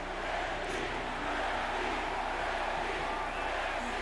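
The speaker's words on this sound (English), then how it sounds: "Fans cheering for Ricky Starks." Crowd noise from the arena audience in the AEW Fight Forever wrestling video game, a steady, fairly loud wash of cheering that continues unbroken throughout.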